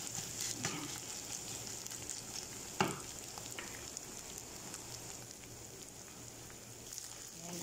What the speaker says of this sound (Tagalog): Hayaan lang muna natin siyang maluto yung giniling natin guys.